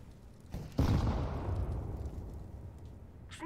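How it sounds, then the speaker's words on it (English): A grenade in the game CS:GO goes off with a sudden loud blast followed by a long rumbling, fading roar that tails away over a few seconds. "I'm throwing a grenade."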